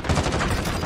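Rapid gunfire from a first-person shooter game, Modern Warfare, a loud burst of quick shots packed into under a second.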